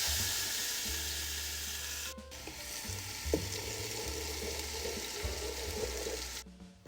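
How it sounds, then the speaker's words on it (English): Ground turkey and sofrito frying in olive oil in a pan, a loud, dense, continuous sizzle close up for the whole stretch, with a few faint knocks and no talking. "I'm gonna put a little bit of olive oil in the pan and some sofrito along with my ground turkey"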